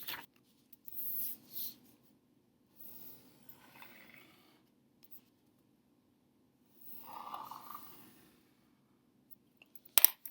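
Drawing a big heart on dark pink paper for a puppy craft: a few soft, scratchy strokes in short separate bursts, faint and close, with quiet pauses between them.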